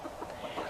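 Brief, quiet clucking from chickens kept on hay bedding, a soft muffled burble lasting under a second against low background noise.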